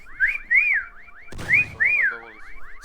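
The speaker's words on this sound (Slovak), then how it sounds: "A ja idem pískať." A player whistling in the hide-and-seek video game Meccha Chameleon, repeated rising-falling two-tone whistle phrases in a steady rhythm, loud and close, with a short burst of noise in the middle.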